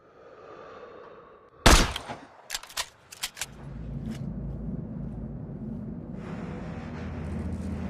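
Rifle fire in a realistic war video game, one loud sharp crack followed by several quicker shots, then a steady low rumble of ambient game noise.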